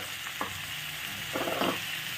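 Boiled cabbage goes into a hot pan with potatoes and onions, giving a soft, steady sizzle with a brief louder burst of frying near the end.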